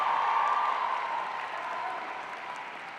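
Graduates at a university convocation ceremony applaud their families, friends and staff, with soft, diffuse clapping from a large distant crowd that slowly fades.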